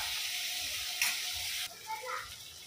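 Onions frying until brown in a pan give off a steady broadband sizzle, with a brief louder burst partway through and then a softer, more uneven crackle.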